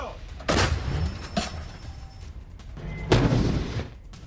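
Explosions during an attack on Kyiv boom in a few heavy bursts, two sharp blasts early and a larger one later, over rumbling background noise, fairly distant and muffled.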